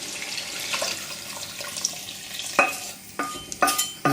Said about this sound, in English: So what I'm going to do now is pour in my chicken stock